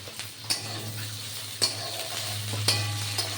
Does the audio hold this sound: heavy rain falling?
no